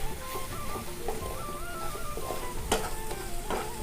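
Spices stir-fried in hot oil for a taro stolon and prawn curry, giving a continuous close sizzle with a few scraping strokes of the spoon against the pan and no talking.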